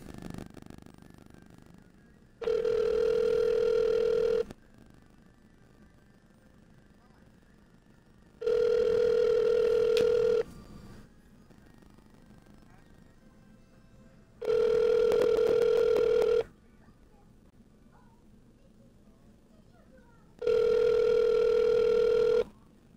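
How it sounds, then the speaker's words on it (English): Telephone ringback tone from a call being placed to a guest on a live show, four long evenly spaced ring bursts with quiet gaps between, loud and clear with no talk over them. "See if I can get him on the phone here."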